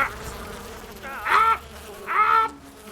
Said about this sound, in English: Lost half my body armor and half my health to freaking bees, dude.